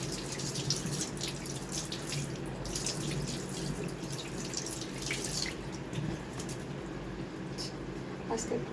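Water poured over baby cockatiels at bath time, a steady trickling splash like a running tap, with small drips and a voice speaking softly in places.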